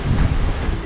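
Strong wind blows outdoors beside a Kijang campervan on an Indonesian road trip, a loud, steady, roaring rumble buffeting the microphone in continuous gusts with no talking.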